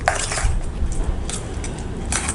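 Egg yolk with onion, pepper and salt being beaten in a bowl for a bun omelette, quick wet whisking clicks and squelches repeating close up.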